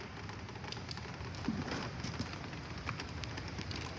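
Rain falling in Montreal, a soft, steady patter of drops on surfaces, faint and continuous for a few seconds with no talking.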